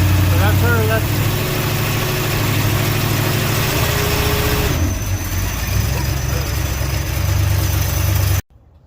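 Carbureted engine of a 1974 Dodge 200 Max Van idling loudly and steadily up close, a low rumbling drone that continues throughout with voices talking over it before cutting off abruptly.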